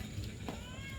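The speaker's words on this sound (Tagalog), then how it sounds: "yung pusa mo yung malaki" A single short cat meow rises briefly in a household during a family meal, close by over steady low background noise.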